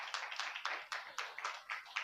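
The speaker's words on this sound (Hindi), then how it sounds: "आइए इनके लिए जोरदार तालियां बजाए।" Clapping from a church congregation, roughly nine evenly spaced claps spread over two seconds, moderately close and fairly faint, with no voices over them.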